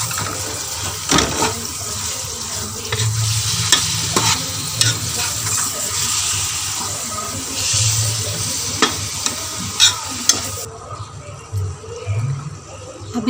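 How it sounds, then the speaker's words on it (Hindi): Minced meat (keema) added to lightly browned onions fries in a pan, a loud close sizzle broken by repeated scraping and clanking stirs of the spoon. "इसको हम 5 मिनट के लिए फ्राई करेंगे।"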